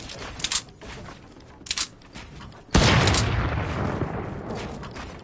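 Grenade explosions in a shooter video game, a few faint distant pops followed by one louder blast with a long rumbling decay, no talking.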